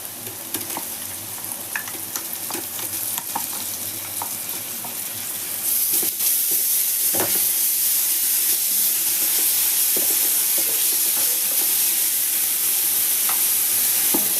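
Onions with crushed ginger and garlic sauté in a pan while being stirred, giving a steady close sizzle with scattered scraping ticks that grows louder about midway, with no talking.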